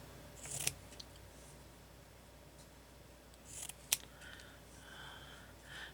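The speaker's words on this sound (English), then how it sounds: "it's just easier for me to cut them." Scissors snipping paper pieces for a journal, two or three short crisp cuts spaced apart over a quiet room background.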